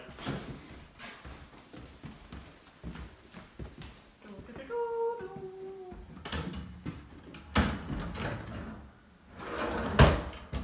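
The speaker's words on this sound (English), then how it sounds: "let's put that last drawer in" A wooden drawer slides and knocks into place with several bumps and scrapes, while people talk nearby.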